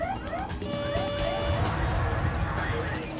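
Loud electronic cockpit warning tones and repeating alarm beeps, including a terrain warning, sound together, overlapping and insistent, with a voice briefly audible underneath.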